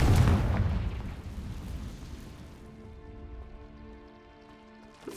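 A fiery Confringo spell explosion in Hogwarts Legacy hits with a loud burst, then crackling debris fades into a faint tonal hum over a few seconds.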